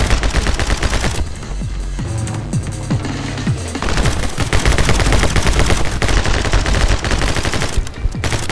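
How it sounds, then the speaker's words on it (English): Rapid machine gun fire from a side-scrolling action video game, dense bursts of shots with booming low impacts running almost continuously, loud and close, with no talking. "That's my machine gun."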